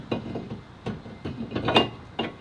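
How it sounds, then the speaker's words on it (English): A new brake rotor slides onto a car's wheel hub, giving a few short, close metallic clunks and scrapes spaced through a quiet workshop background. "Then slide the new rotor on. Fits right on."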